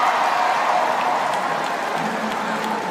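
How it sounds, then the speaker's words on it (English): A swimming crowd roars steadily at the finish of the men's 1500 m freestyle at the 2018 Asian Games, a dense, sustained wash of cheering and applause from a large arena that holds level and slightly eases. "Great cheer for Priwara"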